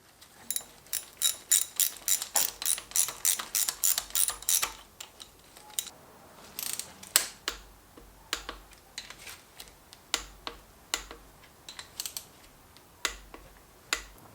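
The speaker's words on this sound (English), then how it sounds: "you kind of want to torque it in like a triangle pattern." Torque wrench tightening engine bolts on a budget turbo truck build, a series of sharp close clicks and ratcheting snaps, rapid at first, then spaced out, with no talk.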